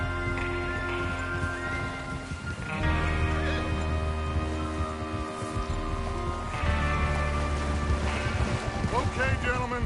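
Horses neigh and whinny in a Red Dead Redemption 2 game scene, several calls rising over a constant low background of music and ambience, with hoof clatter and the drone of the game's soundtrack throughout.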